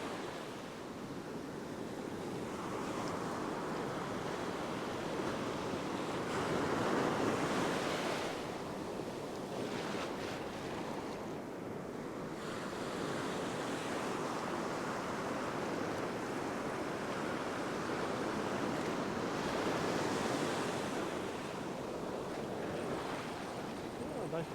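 Ocean surf rolls onto a beach at low tide in a continuous broad wash of breaking waves, with wind noise buffeting the microphone throughout and no clear talking.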